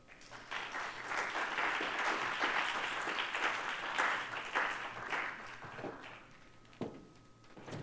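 An audience at a public talk claps steadily to welcome the Dean to the podium, sustained applause for several seconds that tapers off with a few stray claps and faint movement near the end.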